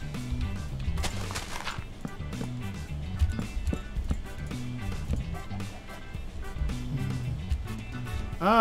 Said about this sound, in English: there's a couple of the wild horses